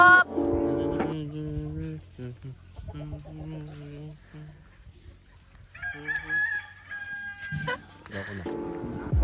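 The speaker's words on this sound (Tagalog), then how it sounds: "Ayan po ang mga manok." Roosters crow loudly nearby in Cavinti, Laguna, Philippines, long drawn-out calls repeating, with hens clucking and other birds in between.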